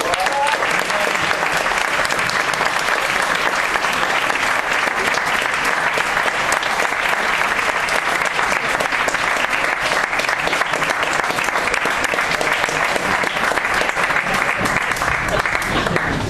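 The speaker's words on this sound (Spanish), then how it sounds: "pido un fuerte aplauso para Eparquio" Loud, continuous applause from an audience at an award presentation at the Irish Corner in Madrid, dense clapping sustained without a break.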